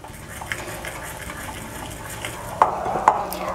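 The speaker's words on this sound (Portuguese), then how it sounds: "E vamos misturando. Primeiro a gente vai começar com a colher aqui" A spoon stirring a yeast mixture in a bowl, soft scraping and swishing with a couple of sharper clinks of metal against the bowl near the end, close and fairly quiet.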